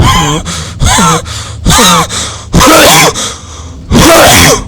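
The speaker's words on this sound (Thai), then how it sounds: "โอ้ยหอบนะ" A person loudly pants and gasps in heavy, ragged bursts while playing a Roblox catacomb exploration game, performing exhausted breathing. Four or five close, forceful breath groups come with short pauses between them.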